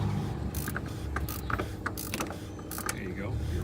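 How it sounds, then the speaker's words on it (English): A ratchet turning a 36mm socket tightens the oil filter cap on a DD15 engine, giving a rapid, close clicking of the pawl in short bursts with brief pauses between strokes. "ratchet, your 36mm socket, and you're going to tighten it down"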